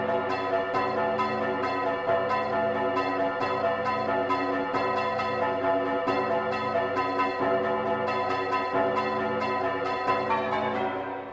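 Tolling bells in the final rhythm-fight music track of the video game Drakengard, sounding in a steady, dense rhythmic pattern over layered music, loud and continuous with no talk.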